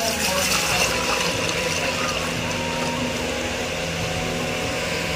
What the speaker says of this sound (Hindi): तो दोस्तों मम्मी भरेगी मटकी में पानी